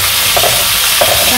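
Cumin paste hitting hot oil in a village kitchen, a steady loud sizzle and fry hiss throughout with a few stirring scrapes.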